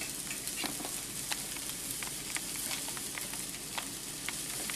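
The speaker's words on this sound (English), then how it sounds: "I'm going to check these sausages and make sure that they're not burning." Sausages sizzle steadily in a frying pan, a continuous close crackle with small pops scattered throughout and no talking.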